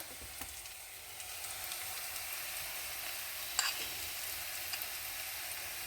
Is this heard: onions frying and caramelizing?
yes